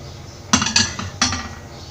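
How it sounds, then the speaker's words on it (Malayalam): A metal cooking pot is set down on a kitchen stove with three sharp clanks about half a second apart, close and clear against a quiet room. "ഇനി വാഴച്ചുണ്ട് ഉണ്ടാക്കാനുള്ള പാത്രം അടുപ്പത്ത് വെക്കാം."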